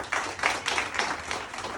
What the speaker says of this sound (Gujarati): એક વખત તાળી પાડો પ્રાચી માટે